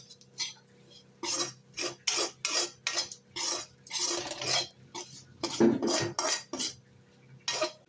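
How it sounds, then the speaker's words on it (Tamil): A metal spoon scrapes and clinks against a cooking pan as chili powder is stirred into kulambu masala for karakulambu, giving a run of irregular close scraping strokes with short pauses between them. "மிளகாத்தூளை இதோட நல்லா போட்டு கலந்து விட்டுருங்க."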